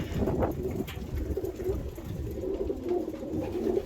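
Pigeons in a loft coo and murmur close by, soft repeated throaty calls overlapping in a steady low chorus with occasional wing rustles.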